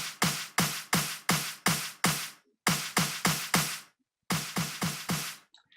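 Punchy percussive hits processed with a Transient Master plugin, fired in quick bursts of five or six sharp attacks with short decays, separated by brief silent gaps, loud and dry with no talking.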